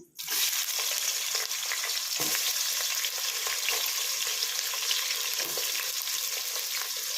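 Onions frying in a pan with bay leaf and cardamom for vegetable pulao, a steady loud sizzle that holds evenly throughout, with a few faint stirring scrapes and no talk.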